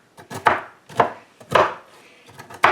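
Dates and nuts for date nut bread are roughly chopped with a knife on a board, giving about six separate near thuds spaced irregularly across a few seconds, with quiet gaps between.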